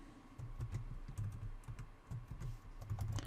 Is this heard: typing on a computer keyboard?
yes